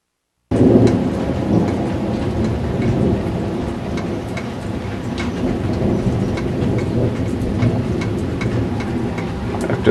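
A thunderstorm with steady heavy rain pours in a continuous broadband wash with low thunder rumbling throughout, loud and unbroken after a brief silent start, no voices present.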